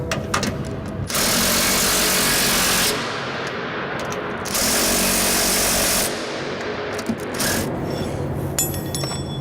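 Power tool snugging bolts during installation of a Daay bin paddle sweep, with loud bursts of rattling impact-driver noise around 1–3 s and 4.5–6 s, and clinking metal handling in between.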